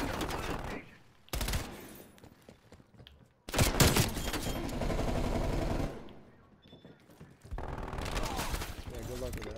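A sentry turret fires in Call of Duty Cold War during Capture the Flag, with repeated loud bursts of automatic gunfire broken by short gaps, mixed with other game sounds.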